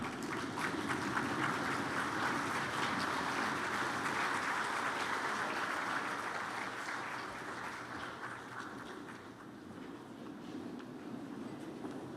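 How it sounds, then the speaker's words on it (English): An audience at an agricultural and rural development congress rises and applauds to welcome a provincial official to the front, a steady, fairly quiet wash of clapping in a hall that fades slightly toward the end. "May we all rise and clap hands as we welcome up front MEC Nakedi Kekana"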